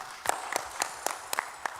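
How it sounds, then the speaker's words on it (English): Scattered hand claps from a small audience at a general assembly meeting, about seven distinct sharp claps at an uneven pace, fairly close and moderately loud in a quiet hall. "Give her a very big hand clap."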